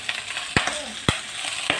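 Soy sauce hits chicken feet adobo frying in a pan, giving a steady sizzle broken by three sharp knocks or stirring clatters, close and moderately loud.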